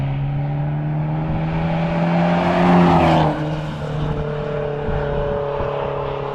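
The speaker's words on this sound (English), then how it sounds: "So I'm going to start this because this car's coming past." A car drives past on a narrow, wet hill-climb road, its engine note rising to a loud peak near the middle as it passes close by, then fading back under a steady low engine drone.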